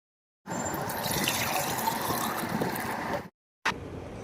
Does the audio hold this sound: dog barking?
no